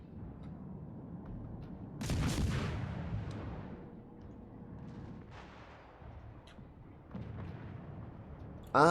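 A torpedo strikes a ship in the naval battle game World of Warships, a heavy booming explosion with a long rumbling decay, followed by fainter distant blasts and a sharp burst at the very end.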